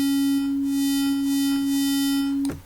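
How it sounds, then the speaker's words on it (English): A steady synthesizer tone built by additive synthesis in FL Studio holds evenly for over two seconds and then cuts off with a brief click near the end, loud and alone. "And that's what a sine wave is."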